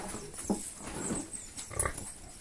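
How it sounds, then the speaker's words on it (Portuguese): Pigs grunt in a pen on a small farm where they are fed feed and whey, with several short, fairly loud grunts at irregular intervals over steady background noise. "Aqui tá os porquinhos."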